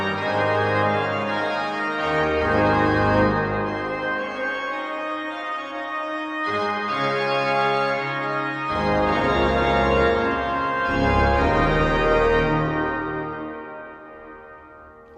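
A Johannus LiVE III digital organ in a church setting, set to the rear listening position, plays sustained chords with long, washing reverb tails that fill the pauses between phrases; loud, full and continuous with no voices.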